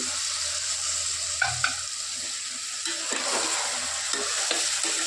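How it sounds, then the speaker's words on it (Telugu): Raw rice stirred into vegetables frying in a pot for vegetable biryani: a steady sizzle with scraping spoon strokes and a few louder clatters, close and alone without talk. "ఇది ఇలాగా వేగుతున్నప్పుడే ఈ ఈ బియ్యం కూడా ఇందులో వేసేసుకోవాలి"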